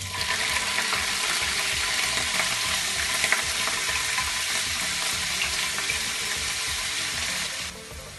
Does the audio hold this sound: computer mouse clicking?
no